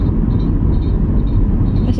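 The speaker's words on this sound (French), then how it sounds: "Qu'est-ce que c'est ce bruit? Ah c'est le camion qui fait ce bruit là." Loud, steady low rumble from a long truck, a continuous heavy engine drone with no breaks across the whole stretch.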